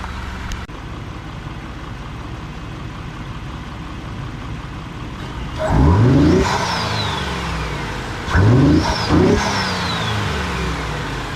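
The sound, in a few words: truck engine revving with turbo whine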